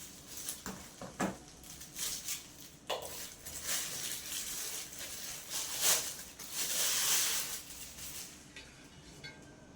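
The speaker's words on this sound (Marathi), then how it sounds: "डोशांचा तवा आहे आणि खूप जाड आहे आणि वजनाला पण खूप जड आहे" A thick, very heavy cast-iron dosa griddle is handled in a home kitchen, with clanks, knocks and scraping metal in irregular bursts, close and fairly loud, with no voices.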